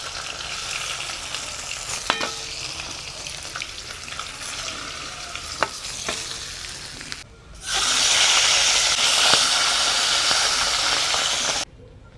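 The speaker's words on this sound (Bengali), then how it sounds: "মাছটা ভাজা হয়ে গেছে এবারে আমি মাছটাকে নামিয়ে নেব" Steady hissing sizzle of large pomfret fish frying in hot mustard oil, with occasional clinks and a sharp surge in sizzling loudness near the end.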